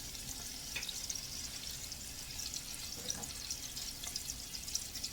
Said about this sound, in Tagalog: Sibuyas po, bawang, sibuyas ang aking ginigisa ngayon